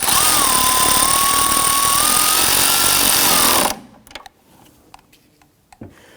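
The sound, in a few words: tightening car battery terminal nut with a tool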